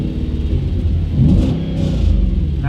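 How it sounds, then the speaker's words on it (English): Audi B7 RS4 V8 engine revving, a loud rumbling idle that swells in two short blips, heard from close by with no talking. "Nice V8."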